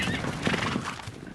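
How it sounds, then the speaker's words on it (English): Wild mustang on open rangeland in the cowboy state gives a loud, wavering whinny that carries across the clip, with faint hoof clops beneath and no voices. "in this empty quarter of the cowboy state is a thundering herd of Mustangs."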